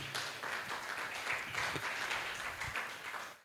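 A church congregation claps steadily and loudly in praise for a few seconds, a dense wash of applause with no voices standing out.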